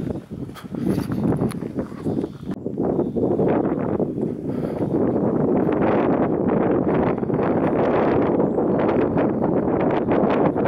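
Wind blows hard across open hilltop ruins of Rogowiec castle, buffeting the microphone in loud, continuous rumbling gusts that build and stay strong throughout.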